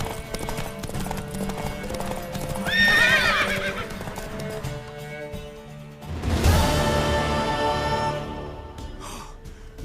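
Galloping hooves clatter rhythmically beneath music in The Witcher 3, broken by a loud horse whinny and a later crash-like burst of sound.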